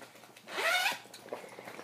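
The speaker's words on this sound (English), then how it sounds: "And then it does zip." Zipper on a bag with mesh side pockets drawn closed in one quick, close pull lasting under half a second, followed by faint rustling.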